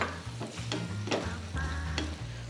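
Bitter gourd (kakarakaya) pieces fry in a pan with a continuous close sizzle, broken by several sharp scrapes and stirs of a spatula.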